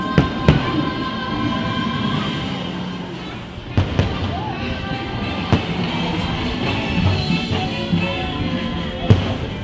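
Fireworks burst over Magic Kingdom, seen from the People Mover in Tomorrowland, with sharp booms and pops at irregular intervals over a steady rumble of the moving ride, as people talk.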